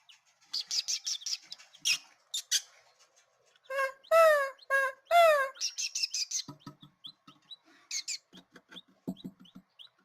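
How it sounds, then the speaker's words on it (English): Little quail chicks under a heat lamp in an enclosure chirp and peep in quick clusters of high, thin calls, close by. A few louder, sweeping calls rise above the rest. "then we have all these little quail babies"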